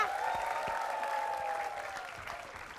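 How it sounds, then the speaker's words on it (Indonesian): A comedy-show audience applauds three performers in a short, continuous patter of clapping with a murmur of crowd noise, fading slightly by the end. "Tepuk tangan sekali lagi untuk mereka bertiga"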